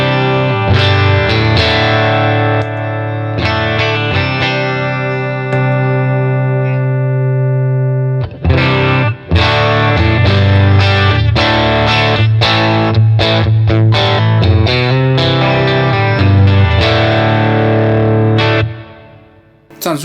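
Telecaster electric guitar played through a boost pedal into a Boss Katana 50 amp on its clean channel, every control set to noon: a loud, sustained chordal passage with rhythmic strummed stabs, ringing out alone before fading at the end.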